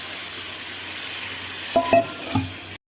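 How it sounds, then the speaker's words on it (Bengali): Water from a rinsed bowl is poured into a pan of frying cauliflower and potato curry, giving a steady sizzle with a few brief clatters of the pan near the end, with no one talking. "এবার আমি ওই বাটি ধুয়ে রাখা জলটা দিয়ে দিচ্ছি।"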